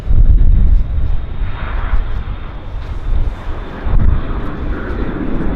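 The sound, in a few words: Horizon Air Q400 turboprop taxiing at Vancouver Airport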